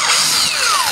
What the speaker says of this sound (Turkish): bu delikleri biraz daha genişletiyorum.